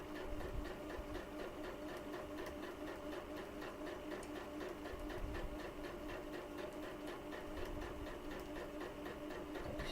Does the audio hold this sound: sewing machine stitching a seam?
yes